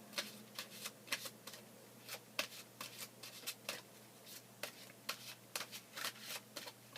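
A deck of angel cards is shuffled for a romance reading, giving a quiet series of quick, riffling flutters that come in irregular bursts, close by and with no talking.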